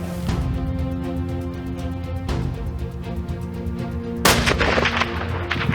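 A rifle shot while hunting in Zambia rings out once, loud and sudden, near the end, above a steady background hum.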